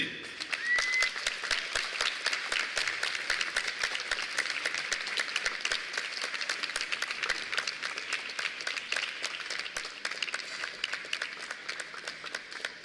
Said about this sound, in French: Je vous demande d'applaudir très fort Monsieur Joe Dante